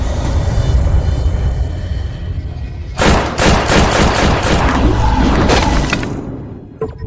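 A rapid burst of gunfire aimed at a ghost, dense and loud cracking shots that crowd together after a rumbling, tense background.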